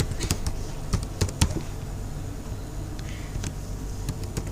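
Computer keyboard typing as an ID and password are entered, a quick run of close, crisp key taps in short irregular bursts with pauses, over a quiet room hum.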